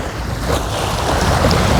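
Strong wind buffeting an outdoor microphone, a loud continuous roaring rush with gusty swells and no voice.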